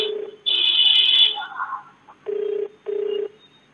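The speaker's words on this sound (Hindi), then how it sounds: "बेल जा रही है।" An outgoing phone call to a district magistrate's office in Gorakhpur, India, rings through: a steady electronic ringback tone sounds in two evenly spaced bursts near the end after a brief higher tone and some clicks, clear and alone.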